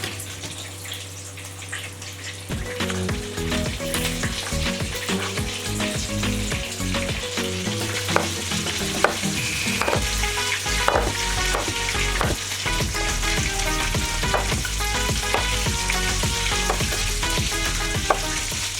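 Steady, loud sizzling of plantain slices frying in hot oil, with occasional clinks and scraping of a utensil in the pan throughout.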